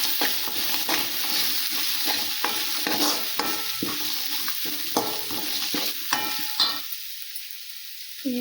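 Turmeric being stirred into mango rice frying in a pan, with repeated scraping strokes of the spoon over a soft, steady sizzle, close and fairly quiet, ending in a short near-silence.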